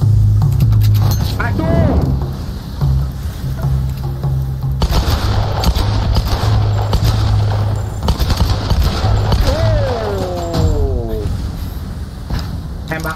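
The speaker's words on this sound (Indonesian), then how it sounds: "Barbar tembak aja." Gunfire in the Tomb Raider video game crackles in repeated bursts alongside game music and a low hum, while someone talks throughout.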